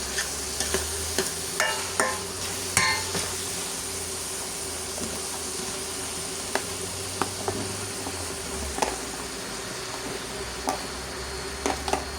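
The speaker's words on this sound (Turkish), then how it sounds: "yemeği hemen karıştırıyorum çok karıştırıyorum" Food is stirred in a pot on the stove, with steady sizzling under repeated scraping and clinking of a utensil against the pot, close and fairly loud.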